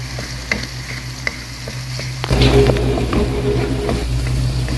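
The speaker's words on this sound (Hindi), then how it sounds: "इसको अब हम हल्का सा फ्राई भुनेंगे।" Shakshuka, eggs in a spiced mixture, sizzles and fries in a pan while being stirred, with a few scrapes and clicks before the frying grows louder and steadier.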